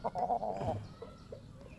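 A flatcomb rooster about eight months old clucks a few times up close, a short burst of throaty calls followed by softer clucks, with no one talking.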